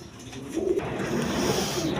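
A pair of large khaki-necked pigeons coo in repeated low, rolling calls that grow fuller after the first half second and continue steadily nearby.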